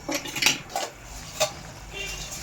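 Cooking pan clattering as cabbage chorchori is poured out, with several sharp metallic knocks and scrapes of utensils against the pan, close and fairly loud.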